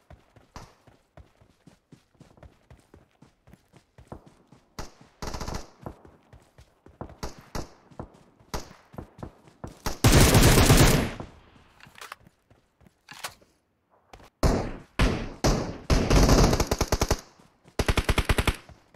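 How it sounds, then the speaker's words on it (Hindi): Gunfire in an online shooter video game: rapid bursts of machine-gun fire and single shots, loud and close, broken by brief pauses and long sustained volleys. "गोलियां आ रही हैं।"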